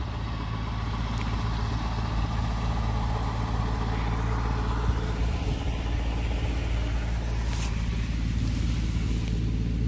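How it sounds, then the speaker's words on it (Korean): A tractor drives a fertilizer spreader across a field while casting calcium sulfur fertilizer, its engine a steady, low, rumbling drone that runs unbroken with no voices. "이제 트랙터를 이용해서 칼슘 유황을 뿌려줬는데"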